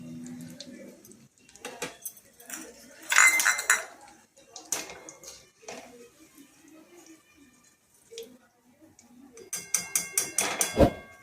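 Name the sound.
lifting fried potato cheese balls out of the pan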